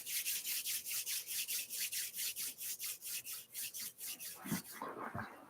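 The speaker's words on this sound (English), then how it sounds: "Now rub the palms of your hand." Palms of the hands rub briskly together in a steady back-and-forth rhythm, about twenty close, hissing strokes with no one speaking.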